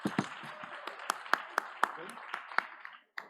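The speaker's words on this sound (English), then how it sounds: "Clap your hands together." Audience clapping at a startup pitch event during a Hamburg ITS conference, a scattered patter of hands with sharp individual claps, a whoop and voices mixed in, stopping abruptly near the end.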